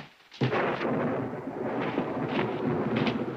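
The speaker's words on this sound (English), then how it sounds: "Wrong time of the year for a storm." Heavy storm thunder rolls loud and close, a sustained low rumble with several swelling peaks after a sudden onset, no voices over it.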